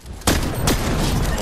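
Gunfire in a shooting video game, a loud burst starting suddenly after a brief quiet lead-in, with a second sharp report partway through and sustained noisy rumble throughout, no talking.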